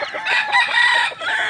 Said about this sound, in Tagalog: sabuyan na po natin patuka ang ating mga alagang sisiw dito